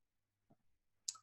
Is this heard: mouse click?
yes